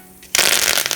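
Mustard seeds crackle and pop in hot oil for a Kerala mango pulissery (kaalan) tempering. A dense, loud burst of spattering starts suddenly about a third of the way in and carries on to the end, with no talk.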